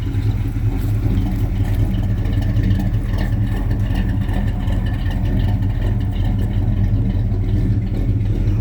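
A 1984 Chevy C10 factory short-bed pickup's engine runs at a steady idle, a loud, close, even rumble with no speech over it.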